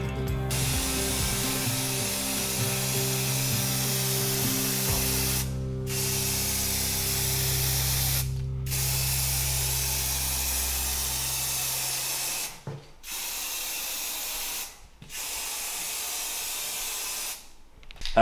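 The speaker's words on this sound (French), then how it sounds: "pour la peinture, je me tiens à peu près à 15-20 cm" Spray paint hissing onto a steel coffee table in long continuous bursts, broken by several short pauses, close and loud with no speech.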